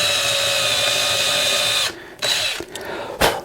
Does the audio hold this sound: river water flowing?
no